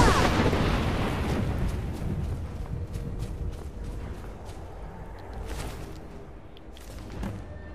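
Enemy fire aimed at the player in Skyrim Anniversary Edition: a loud opening blast followed by a rumbling, fading barrage with scattered sharp impacts, no talking.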